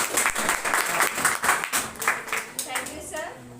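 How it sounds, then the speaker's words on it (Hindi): A crowd of students and guests claps at a school Republic Day celebration, welcoming a speaker with uneven, surging applause, while voices talk over it. "एक बार ताली बजा कर वेलकम करते हैं।"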